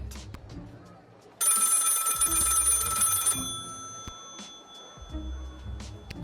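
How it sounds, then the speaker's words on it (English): A telephone bell rings in the video game Lil Guardsman, a bright rapid trill lasting about two seconds, then fading, with a voice talking before and after it. "Pick up the phone, I suppose."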